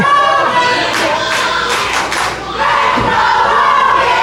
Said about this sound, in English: The crowd firing up